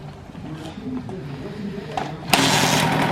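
KTM TC65 dirt bike given a kick with no choke: quiet thumps and shuffling, then the engine catches with a sudden loud, buzzing roar that keeps running close by, with people talking in the background.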